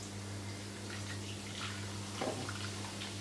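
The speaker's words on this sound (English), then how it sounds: "I'm literally just going to pour the ginger beer in the bottom of the tray" Ginger beer poured into the bottom of a roasting tray, a faint fizzy liquid trickle and splash over a steady low kitchen hum, brief and quiet.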